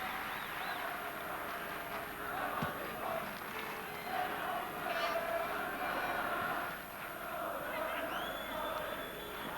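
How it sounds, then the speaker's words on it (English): Football stadium crowd at a UEFA Cup final in Gothenburg, IFK Gothenburg against Dundee United, gives steady applause and cheering. The roar stays broad and continuous throughout, loud and distant-sounding, with no one speaking close by. "And applause for Leonard Nielsen."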